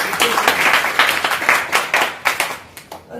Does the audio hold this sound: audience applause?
yes